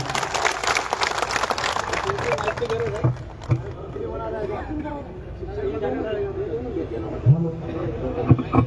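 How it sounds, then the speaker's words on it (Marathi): A crowd of teachers at a gathering gives a dignitary a burst of loud applause that fades after a few seconds into crowd murmur, with a voice talking over the hubbub and scattered claps and bumps. "आदरणीय ज्ञानेश्वरजी माते जोरदार टाळ्या"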